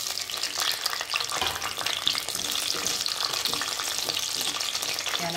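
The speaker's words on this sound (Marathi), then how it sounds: "त्याला पण थोडं फ्राय करून घ्यायचं आहे" Tomatoes frying with mixed vegetables in hot oil, a dense, steady sizzle and crackle close up, with light stirring scrapes throughout and no voices.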